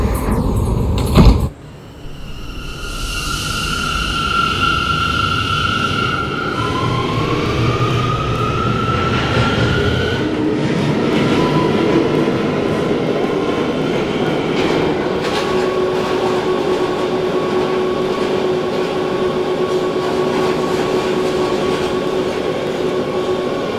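An R179 subway car on a Brooklyn-bound C local runs steadily and loud, with a sharp clunk near the start, rising whine tones of the motors accelerating, and continuous rumble and rattle of wheels on track.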